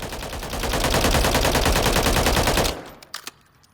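H&K G36K rifle emptying in full-auto fire in Call of Duty Modern Warfare III, a loud, rapid, evenly spaced burst lasting about two seconds that stops abruptly, followed by a few faint clicks and rattles.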